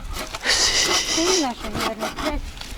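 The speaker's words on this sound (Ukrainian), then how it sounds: "Пилки тупі, дерево мокре." A dull hand saw cuts through wet wood in a garden plot in Poland, one rough, rasping stroke standing out amid nearby voices.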